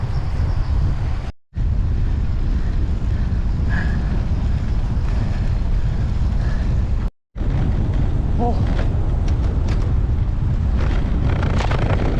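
A speedboat's engine drones as it rushes over the North Han River, wind buffeting the microphone loudly throughout, with two brief drops to near silence.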